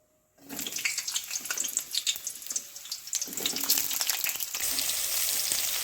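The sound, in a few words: pointed gourd frying in mustard oil in a wok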